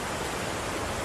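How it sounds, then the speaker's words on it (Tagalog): Flowing water of a stream at a hammock festival in the Philippines, a steady, close, full rushing hiss with no breaks and no voices. "naririnig nyo na ba? Ang daloy ng tubig."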